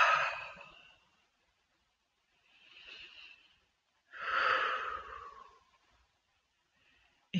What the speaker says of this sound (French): quand vous serez prêt, vous allez faire 2 grandes respirations.